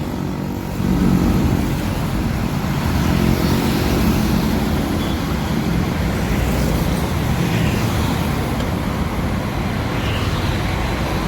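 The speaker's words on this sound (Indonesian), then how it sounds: "ada bus Mior lagi ya teman-teman ya" A Mior bus passing on the road gives a loud, sustained engine and tyre roar mixed with traffic noise, close and continuous for the whole stretch with no talk.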